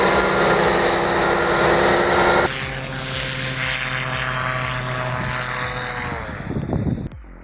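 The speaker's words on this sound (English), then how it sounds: "These Soviet-style aerosleds use massive props to navigate terrain where wheels would simply give up." A Soviet-style aerosled driven by a large propeller roars loudly and steadily, its tone shifting partway through before the noise breaks up and cuts off near the end, with no voices.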